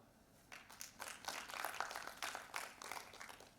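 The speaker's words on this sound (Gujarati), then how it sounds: "તાળીઓ થોડી વધારે પાડો." Audience at a book launch for a Gujarati ghazal collection breaks into applause after a brief quiet start, a dense burst of clapping from a crowd that swells and holds steady, fairly close, with no talking over it.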